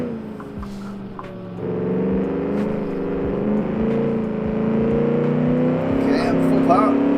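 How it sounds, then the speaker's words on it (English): A 1956 Gasmea race car in the Automation/BeamNG racing game held at full throttle, a steady, loud engine drone that rises in pitch as it accelerates out of a tunnel, with someone talking over it. "full throttle, sliding out the tunnel"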